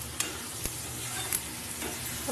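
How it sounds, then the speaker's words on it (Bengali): Potatoes are stir-fried with raw spices in a pan, giving a continuous, close sizzle broken by a few sharp clicks and scrapes as the mixture is stirred. "ভালো করে কষিয়ে নেবো নেড়ে চেড়ে যতক্ষণ পারবো।"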